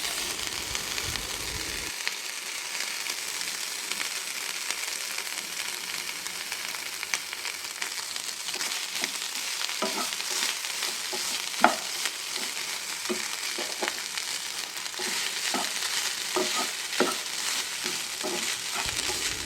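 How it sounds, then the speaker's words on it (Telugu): Rice is stirred into a jackfruit seed curry in a pan, giving a continuous close sizzle with scattered scraping clicks of a spoon against the pan. "దాంట్లో కొంచెం రైస్ తీసుకొని రైస్ వేసి మిక్స్ చేసేయటమేనండి"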